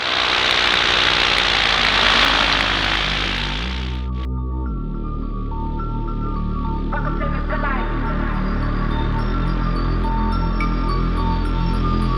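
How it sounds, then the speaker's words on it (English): A paramotor engine runs steadily with a loud, close droning hum that drops in pitch and level partway through, then settles into a constant idle-like tone. "at least you got to see a takeoff with a Paramotor strapped to my back"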